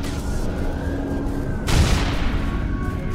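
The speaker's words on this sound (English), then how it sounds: "frag out" A frag grenade explodes in Halo Reach firefight gameplay. A sudden loud burst cuts in over a steady rumble of background game noise and fades into lingering debris and roar.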